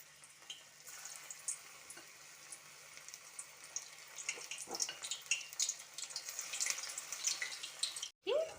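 Marinated paneer fries in hot cooking oil with a quiet, steady crackle and spitting that grows busier toward the end, followed by a brief clatter.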